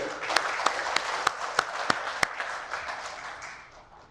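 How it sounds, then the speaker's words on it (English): A crowd at an International Women's Day celebration applauds steadily, with a few sharp, louder claps standing out at regular intervals before the clapping gradually fades. "A big round of applause for all of us for being here."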